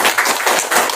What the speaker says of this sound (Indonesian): Tepuk tangan buat Pak Adi.